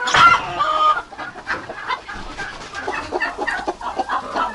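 Hen clucking close by on a poultry farm, a series of short, uneven clucks that start louder and continue more softly, with no talk.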